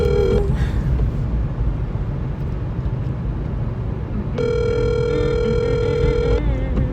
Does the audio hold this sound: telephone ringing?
yes